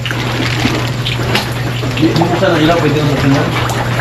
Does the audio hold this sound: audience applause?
no